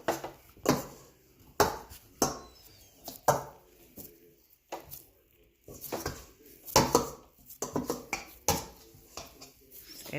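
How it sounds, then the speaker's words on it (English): Kids stir homemade putty in bowls, sending out irregular clacks and scrapes of utensils knocking against the bowls, close and fairly sharp, with pauses between bursts. "These guys are still stirring away"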